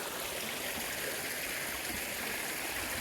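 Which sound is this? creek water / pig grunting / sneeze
creek water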